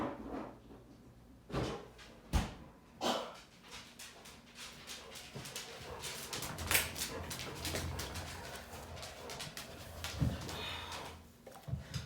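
A pet dog moves about indoors, panting and whimpering with a few soft barks amid scattered thuds and clicks, fairly quiet and close, with no talk.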